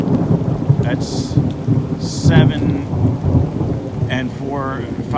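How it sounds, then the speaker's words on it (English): Low rumbling thunder rolls continuously beneath steady heavy rain during a storm with flooding water, with a few brief higher crackles and tones scattered through. "You heard the thunder."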